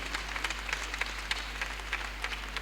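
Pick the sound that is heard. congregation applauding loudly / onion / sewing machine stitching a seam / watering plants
congregation applauding loudly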